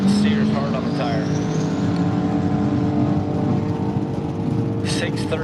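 A drag racing car at Woodburn Dragstrip during a Redwood Rally Drag n Drive event holds a loud, steady engine roar throughout, with a voice speaking over it.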